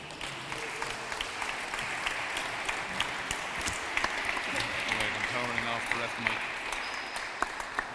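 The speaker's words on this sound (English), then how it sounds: "A round of applause for both players there tonight for an outstanding game of Wallball." Applause from spectators after a wallball match at the All-Ireland championship, a moderate, continuous patter of clapping with a commentator's voice running over it.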